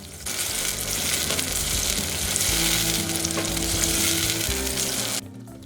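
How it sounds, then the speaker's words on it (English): Onions and garlic sauté in hot oil in a pan, giving a loud, steady sizzle and crackle that continues for several seconds before cutting off abruptly. "oil in, onions, garlic, and we're going to let that heat up and saute until the onions are soft"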